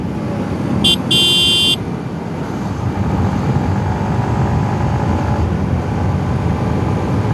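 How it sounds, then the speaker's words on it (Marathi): A Yamaha MT-15 motorcycle engine drones steadily while riding on a long road trip, with wind rumble throughout and a brief double horn beep near the start. "गाडीचा नाद नाही."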